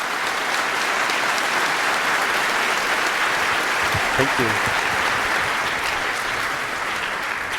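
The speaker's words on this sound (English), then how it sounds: "a big round of applause" A conference audience in Hamburg applauds a security talk about hacking Apple's USB-C controller, a steady, dense wash of clapping that fills the whole stretch, with a voice briefly thanking them partway through.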